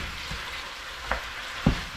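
Pork for curry sautés in a hot pan, a steady close sizzle running throughout with a couple of brief stirring clanks.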